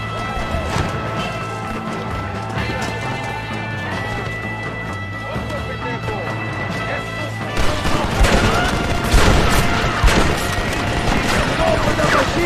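Bursts of machine gun fire crackle through the second half of a Red Dead Redemption battle for the Allende mansion, layered over galloping hooves, horse sounds and shouting voices in a dense, busy mix.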